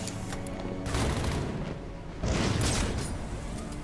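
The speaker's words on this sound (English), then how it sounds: "I hear the gunfire" Gunfire in the video game Batman: Arkham Origins, bursts of rapid shots and booms in two distinct volleys with a dense rumbling mix between them, moderately loud with no voices.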